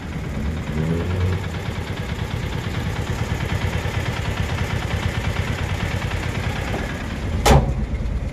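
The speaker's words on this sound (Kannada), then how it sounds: "ನೋಡಿ ಕೇಳಿಸ್ಕೊಂಡ್ರಲ್ಲ ಇಂಜಿನ್ ಆಗಿ ರನ್ ಆಗಿದೆ" A vehicle engine idles steadily with an even low rumble, followed near the end by a sharp single knock or click.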